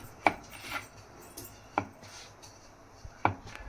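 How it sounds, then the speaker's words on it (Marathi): Potato paratha dough being rolled out with a rolling pin, three sharp knocks spaced about one and a half seconds apart over quiet soft rubbing strokes, close and fairly faint. "आता मी पराठा लाटून घेईल."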